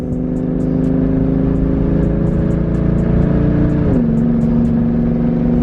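Audi V10 engine with a misfire, revving hard and steady up close, its loud uneven roar carrying a choppy stutter before the pitch drops sharply near the end.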